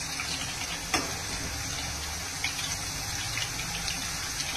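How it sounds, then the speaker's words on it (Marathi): Potato slices for chips fry in very hot oil in a kadhai, a soft continuous bubbling hiss with a few sharp ticks and pops, close and faint, no voices. "आता आपण बटाटे सोडून घेऊ। कढईत बसतील तेवढेच बटाटे टाकायचे।"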